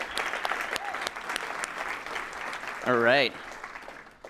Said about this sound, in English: Let's give a round of applause to all the folks at TechTO for putting this together.